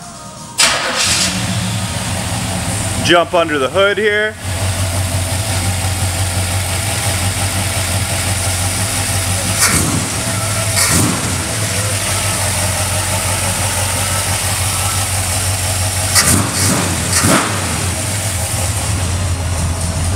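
A 1956 Chevrolet Bel Air fitted with a 350 crate engine cranks over and fires, then settles into a loud, steady idle that runs for nearly twenty seconds, with a few brief bumps and a short spoken remark.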